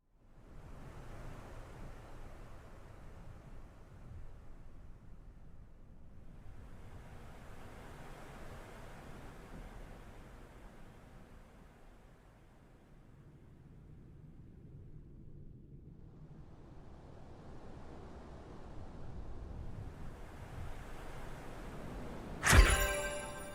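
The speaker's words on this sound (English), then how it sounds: "Soothing ocean waves and other nature sounds for the Wii U." Soothing ocean waves from a Wii U nature-sounds track swell and recede in slow, broad surges of surf, soft and steady, ending in a brief louder burst.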